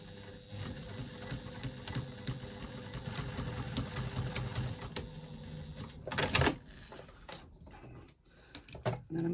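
A sewing machine stitches across a strap connector in faux leather or cork to secure it to foam, a steady close mechanical whirr for about six seconds, then a brief louder burst and scattered clicks as it stops.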